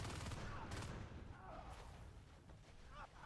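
Shotgun blasts in a Natural Selection 2 match, dense bursts of gunfire with a busy game mix and other weapon noise, loud and close throughout.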